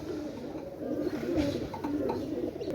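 Pakistani Rampuri high-flying pigeons coo softly nearby, low rolling calls repeating over faint room noise.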